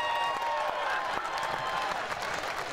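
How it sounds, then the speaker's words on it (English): Audience applause and cheering at an outdoor drag show in a park, a dense steady wash of many hands clapping with some voices mixed in, continuous and fairly loud throughout. "A round of applause for our bachelorettes."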